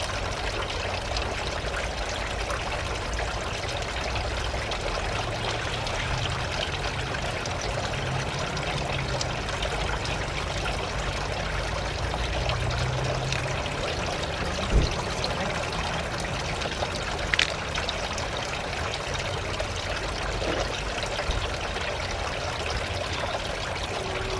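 Water pours and trickles steadily into a small vessel meant for plant cuttings, a continuous close liquid stream lasting throughout with a couple of faint clinks and no speech.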